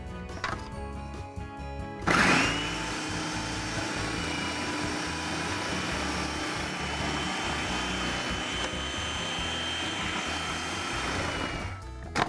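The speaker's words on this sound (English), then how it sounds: "So you're gonna put that shred blade in, and put the top on, and turn it on and just feed the carrots through." Food processor fitted with a shred blade shredding carrots, starting with a click and sudden whirring motor that runs as a steady, loud, droning hum for about ten seconds before stopping.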